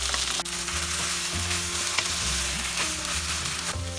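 Mashed vegetables, with turmeric already in, go into a hot frying pan and get stirred; a dense, steady sizzle of frying fills the pan with spatula scrapes and knocks scattered throughout.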